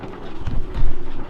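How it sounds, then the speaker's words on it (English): Wind gusting outdoors beside a boat, a dense low rumbling buffet against the microphone that swells and dips over a brief moment, with no clear speech. "Sorry about the noise, guys. It's a little bit windy outside."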